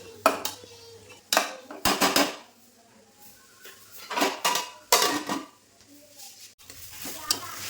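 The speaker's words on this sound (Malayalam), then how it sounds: "നമുക്ക് ഈ തക്കാളിയൊക്കെ ഒന്ന് വയന്ന് വരുന്നത് വരെ നന്നായിട്ടൊന്ന് ഇളക്കി കൊടുക്കാം" Metal spoon stirring and scraping tomato and onion masala with green chillies in a cooking pan, in irregular bursts of clatter with a faint sizzle between strokes, close and fairly loud, no talking.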